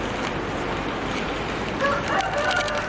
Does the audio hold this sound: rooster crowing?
yes